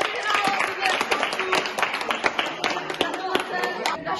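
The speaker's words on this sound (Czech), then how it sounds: "všichni velký potlesk pro Markétu" A school class claps for the winner of a hide-and-seek game, with quick uneven hand claps running throughout, while a voice speaks over the clapping.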